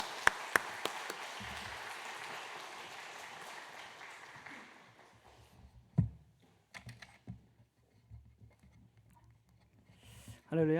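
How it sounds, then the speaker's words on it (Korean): A church congregation at a Wednesday prayer meeting claps to welcome a missionary, steady applause fading out after about five seconds, followed by scattered taps and shuffling, with a voice starting at the end. "박수로 크게 환영하시면 좋겠습니다"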